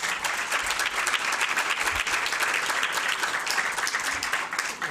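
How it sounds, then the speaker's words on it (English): Another round of steady, dense audience applause for John at an awards reception, a continuous wash of many hands clapping at close range with no break. "Let's give John another round of applause."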